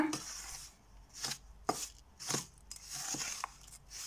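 Rava and sugar are mixed in a bowl for ladoo, giving soft, irregular scraping and grainy rustling strokes with a few sharper clicks. The sounds are quiet and close, with no talking.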